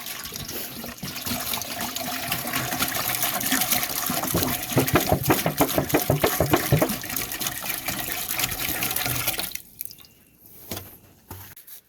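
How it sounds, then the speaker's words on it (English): Water pours into a pot for ballistic gelatin as a loud, steady splashing stream with rapid gurgling pulses, close by, then cuts off and leaves a few quiet trickles. "We're going ahead and pouring the water in"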